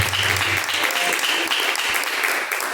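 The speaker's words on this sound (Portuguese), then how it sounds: "As palmas que louvam e agradecem a Deus." Church congregation clapping in praise to God during a worship service, steady, fairly loud collective applause with a brief voice under it at the start.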